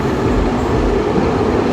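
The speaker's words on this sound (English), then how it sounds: "This bloody train." A train passes close by, its steady heavy rumble and rolling rail noise holding at a constant level without a break, with no voices over it.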